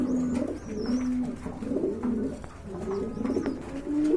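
Pigeons at a pigeon farm cooing in low, rolling repeated calls, several birds overlapping close by, with faint higher chirps in the background and no talking.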